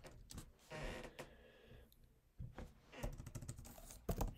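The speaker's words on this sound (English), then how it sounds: "I'll just type in YouTube." Clicky computer keyboard typing in bursts of quick keystrokes with short pauses, close and fairly quiet, with no talking.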